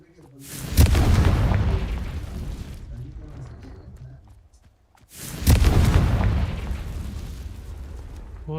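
A Confringo blasting spell goes off in the Hogwarts Legacy game as two loud, booming explosions about four seconds apart, each with a long rumbling tail. A player shouts over the blasts.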